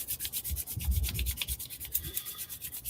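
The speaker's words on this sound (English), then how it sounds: "Let's rub our palms together." Palms rubbed briskly together during a sunrise Kundalini yoga practice, a soft, close, rhythmic swishing of skin on skin repeating steadily with no talk.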